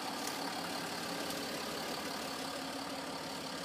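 A Land Rover passes close by outdoors, a steady, loud broadband engine and road rumble that holds evenly throughout.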